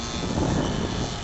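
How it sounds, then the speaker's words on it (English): A yellow Belgian Stampe biplane, a more powerful aerobatic cousin of the Tiger Moth, drones overhead with a steady, rough piston-engine and propeller roar at an air show. "Sharon, is out there flying the Stampe. That's the yellow with red sunburst aircraft, the Belgian aeroplane."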